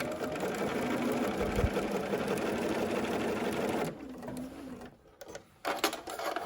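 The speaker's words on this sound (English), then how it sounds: "So now I'm just going to stay stitch these pleats in place, no pins." A sewing machine runs steadily, stay stitching fabric pleats in place without pins, its motor whirring continuously for about four seconds before slowing into a few short bursts, close and alone.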